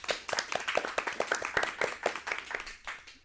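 A small audience claps for a correct football answer during a sports quiz. The claps are quiet, quick and somewhat uneven, coming from only a few pairs of hands, with no one speaking over them.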